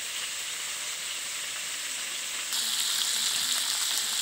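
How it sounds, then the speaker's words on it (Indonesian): Large battered squid pieces fry in a wok of hot oil with a dense, steady crackling sizzle that grows louder and brighter partway through, close and with no talk. "Wah, banyak betul goreng kan ni."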